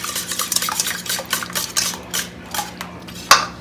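Eggs are whisked briskly in a bowl for a quiche, giving a steady run of close, rapid metallic taps and swishes without any voices.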